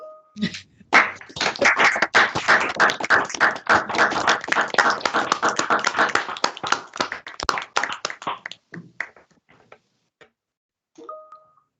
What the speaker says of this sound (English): Let's unmute our mics and give everyone a big round of applause.